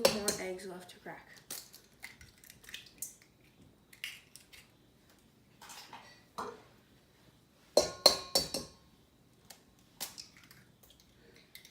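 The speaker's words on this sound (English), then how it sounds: "So now I only have 2 more eggs left to crack." Eggs being cracked into a bowl for frittatas: scattered light taps and clinks of shell on the rim, with a brief cluster of sharper knocks, mixed with intermittent kitchen handling noise.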